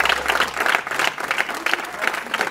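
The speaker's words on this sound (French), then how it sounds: "Applaudissez pour moi." Lively crowd applause during a community visit in Mokali, with loud, close rhythmic clapping that swells in uneven bursts, mixed with voices from the gathering.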